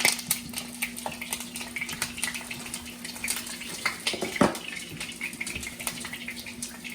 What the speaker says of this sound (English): just going to very gently just put it right here into the oil